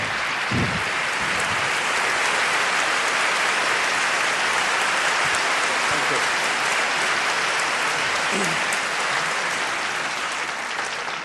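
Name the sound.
applause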